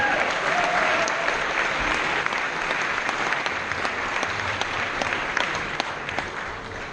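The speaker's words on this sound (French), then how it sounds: "On peut l'applaudir." Sustained audience applause at a graduation ceremony for the ISIMA engineering school, dense even clapping from a large crowd that welcomes a guest onto the stage and continues without pause throughout.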